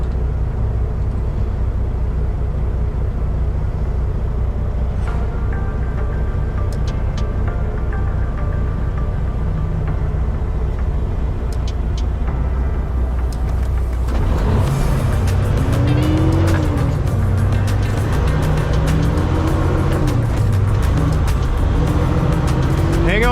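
A concrete hauling truck pulls away in first gear, its deep diesel engine rumbling loud and close, rising in pitch as it accelerates with a faint whine and cab rattles.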